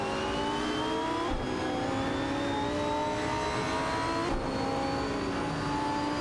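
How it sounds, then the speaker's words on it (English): Lamborghini Huracan Perf and McLaren 675 LT racing head-to-head in a video game, engines droning and revving continuously with rising and falling tones, close and steady. "The Lamborghini Huracan Perf and McLaren 675 LT are going head-to-head in this thrilling exchange."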